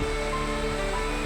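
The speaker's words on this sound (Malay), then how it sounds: "Bila duduk kat tepi pantai, tengok ombak" Sea waves washing onto the beach at Port Dickson, a steady close wash of surf with no break across the short stretch, loud and unaccompanied by voices.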